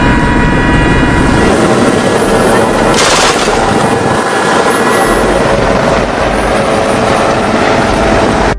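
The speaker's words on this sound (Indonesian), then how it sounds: "militer Prancis sampai menurunkan sebuah helikopter, kemudian menembaki kapal bajak laut dari udara." A French military helicopter fires from the air on a Somali pirate ship. A loud, close, roaring rotor and engine drone runs throughout, with a burst of sharp gunfire cutting through near the middle.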